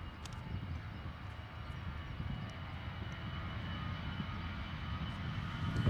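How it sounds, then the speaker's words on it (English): EasyJet Airbus A320 airliner at foggy London Luton Airport, a steady broad engine roar holding constant and slightly swelling toward the end, with no talk over it. "EasyJet A320 transferring off to London Gatwick Airport."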